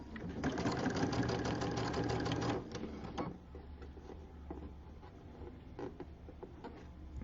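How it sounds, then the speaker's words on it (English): A sewing machine runs a quarter-inch seam, a fast steady mechanical whir up close that is loud for about two and a half seconds, then slows into softer, uneven clicks and taps. "then I'm going to stitch my 1/4 inch seam"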